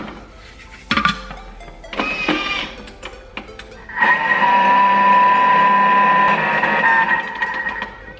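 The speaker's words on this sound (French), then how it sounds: "Et pareil, je vais mixer." Kitchen blender pulsing biscuit crumbs with butter: a few short whirring bursts, then a longer steady motor whine that holds for several seconds before stopping, close and fairly loud.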